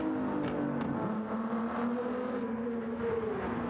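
Endurance race car at Le Mans on its final lap, a sustained engine note sliding gradually lower as it moves away, with brief gearshift blips early on and a faint passing whine in the background.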